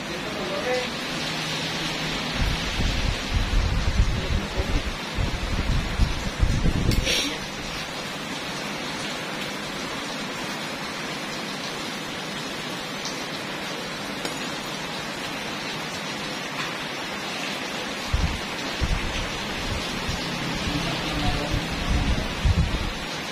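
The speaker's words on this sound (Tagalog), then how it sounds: "Lakusog ay ulan." Heavy rain hisses steadily throughout, with low rumbles of thunder rolling in early and again near the end.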